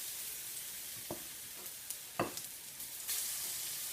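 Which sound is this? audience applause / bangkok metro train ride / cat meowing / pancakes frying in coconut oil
pancakes frying in coconut oil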